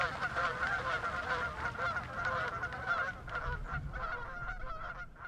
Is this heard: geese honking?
yes